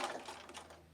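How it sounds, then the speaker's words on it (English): A sewing machine stitches binding off the point of an outside corner, a quiet, brief run of rapid mechanical stitching that fades out within about a second. "this first outside corner I'm just going to stitch right off"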